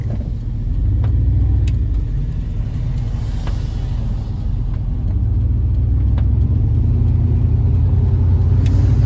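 A car driving along a British Columbia highway, heard from inside as a loud, steady low road rumble and engine drone, with a few faint ticks over the constant hum.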